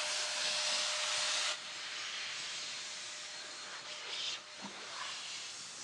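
Strong air blower hissing as it blows tire coating off a wheel rim, loud and steady for about a second and a half, then a softer continuing rush with brief bursts.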